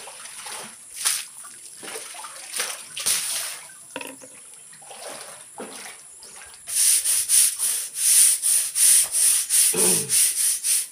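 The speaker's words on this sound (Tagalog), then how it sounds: "Magkuskus muna tayo ng swimming pool guys." Scrubbing a homemade swimming pool at a farm resort: rhythmic brushing strokes, sparse and soft at first, then a fast run of loud, steady scrubbing passes close by, with a little water sound.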